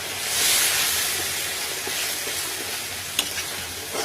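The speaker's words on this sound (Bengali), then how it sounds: "এবার একটু নাড়িয়ে চাড়িয়ে" Salted vegetable masala being stirred in a hot pan, a steady frying sizzle with soft scraping strokes and one sharp tap near the end, close and without talk.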